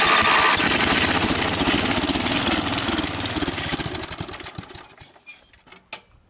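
A go-kart motor that has not run in a very long time sputters to life and runs with a loud, close, rapid engine chatter, then fades out to stillness with a few trailing knocks.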